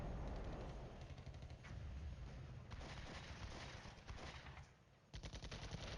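Gunfire in the Cold War wargame Flashpoint Campaigns Cold War rattles on as a continuous muffled barrage of machine-gun bursts and distant explosions, a dense steady roar with brief lulls.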